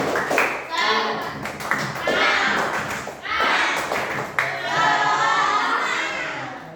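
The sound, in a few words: class doing a rhythmic 'tepuk semangat' spirit clap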